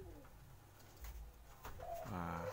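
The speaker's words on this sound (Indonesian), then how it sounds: "Puter pelung wheel." Pelung wheel turtle doves, a type of pigeon, coo softly in a few low, rounded calls, fairly close but quiet, with faint background noise and a brief murmur of voices.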